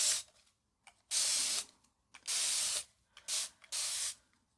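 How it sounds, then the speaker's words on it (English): Four bursts of a spray bottle misting water onto a watercolor palette, each a sharp hiss lasting about half a second, with short pauses and faint clicks of the trigger between them. "I'm going to grab my spray bottle and wet my palette"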